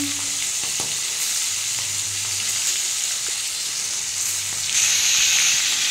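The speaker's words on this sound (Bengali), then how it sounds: "পটলগুলো আমার একটু ভাজা হয়ে গেছে, আমি একটু উল্টে দিয়েছি" Ripe pointed gourd (potol) slices fry in oil in a pan, giving a steady bright sizzle with brief stirring knocks.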